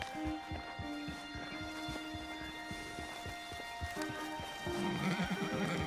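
Horses ridden in the video game Red Dead Redemption 2 clop along at an easy pace, their hooves tapping steadily as one whinnies clearly, close by, with faint ambient outdoor sound around them.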